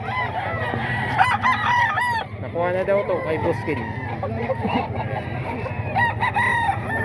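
Roosters crow repeatedly amid clucking fowl at a poultry sale, several loud, close crows overlapping a busy background while someone talks over them.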